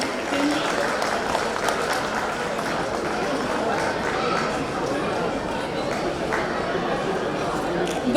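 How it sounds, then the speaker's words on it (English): An audience at an alumni association day celebration in Kuwait claps in a steady, dense round of applause, with crowd murmur mixed in throughout. "Congratulations, and with round of applause,"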